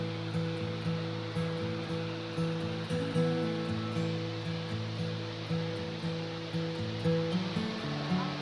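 A jungle waterfall in Cambodia gives a steady, full rush of falling water with no pauses, layered with droning tonal hums that hold throughout.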